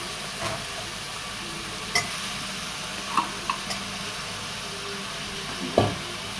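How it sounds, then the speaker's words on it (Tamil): Tomatoes, mushrooms and mixed vegetables sauté in a pan with a constant close sizzle, broken by a handful of brief spoon clicks and knocks against the pan. "எல்லாத்தையும் கொஞ்சம் வதக்கணும்."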